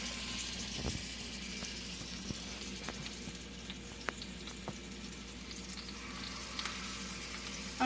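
A hamburger patty frying in grease, a steady close sizzle and crackle with scattered small pops running throughout, no talk.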